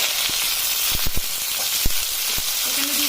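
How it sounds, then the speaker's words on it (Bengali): Steady crackling sizzle of mixed vegetables for shukto frying in oil, with a few sharp clinks of a spatula against the pan scattered throughout. "বাদ বাকি সব সবজিগুলো দিয়ে দেওয়া হলো এবার এগুলোকে ভালোভাবে মা ভাজবে"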